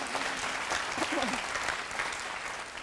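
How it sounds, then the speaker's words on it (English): A lecture audience at the University of Washington bursts into sustained applause, a steady, even roar of many hands clapping heard from within the hall. "Yes, you can clap for that."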